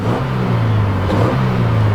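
A 2019 Subaru Crosstrek's flat-four engine drones and revs steadily through an aftermarket exhaust, loud and gruff, a throaty low exhaust note with a slight dip and rise midway.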